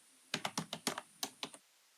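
Crisp keystrokes on a computer keyboard while C++ code is typed: about nine sharp, close clicks in a quick uneven run, then silence.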